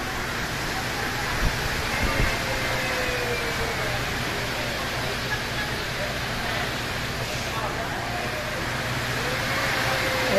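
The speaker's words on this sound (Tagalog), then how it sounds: "Ayan na ang ulan." Rain starting during a typhoon at a market makes a dense, even hiss like steady pouring water, a constant wash of noise close around the microphone, with a few small knocks near the start.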